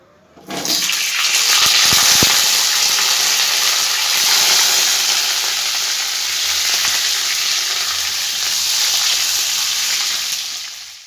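Cut, washed potatoes hit hot oil and set off a loud, sudden burst of sizzling that roars on steadily and close by, with a few stirring knocks early on.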